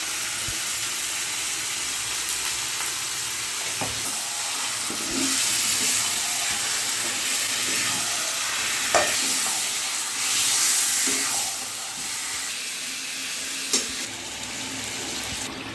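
Marinated chicken with Kashmiri chili sizzling in a pan for chicken dak bungalow, a steady frying hiss broken by occasional scraping stir strokes, close, with no talking.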